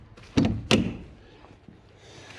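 A gate latch snaps shut on an animal pen, giving two sharp metallic clunks about a third of a second apart, close and fairly loud, with a faint rustle of bedding trailing after.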